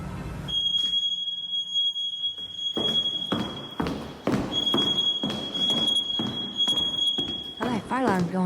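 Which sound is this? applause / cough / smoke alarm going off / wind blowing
smoke alarm going off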